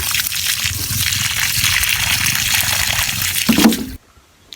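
Dug-up crickets being washed clean in water, with steady sloshing and splashing close by, a brief louder splash near the end before the sound cuts to near silence.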